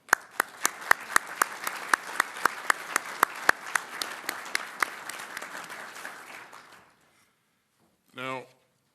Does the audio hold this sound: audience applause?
yes